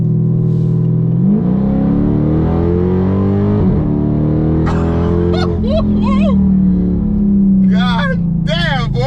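A 2019 Dodge Charger Scat Pack accelerating hard at full throttle, a loud, close engine climbing in pitch with a shift, then a renewed roar as it pulls again, with a voice speaking over parts of it.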